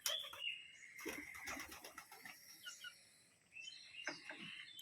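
Pigeons on a farm cooing softly and repeatedly at close range, with light chirps and a few faint wing flutters mixed in and no talking.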